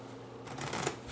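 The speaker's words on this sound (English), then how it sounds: "riffle shuffle these two together, and riffle shuffle these together" A deck of playing cards being riffle shuffled during a close-up magic routine, a short burst of rapid fluttering card flicks rising in the middle of the clip, close and fairly quiet.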